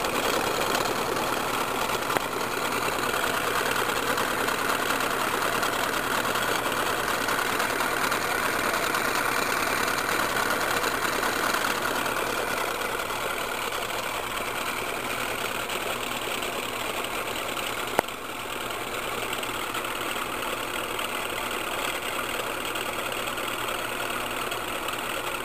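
A simple homemade three-phase AC motor spins steadily at speed, giving a continuous even whirring hum with a faint mechanical rattle, fairly quiet and unchanging throughout.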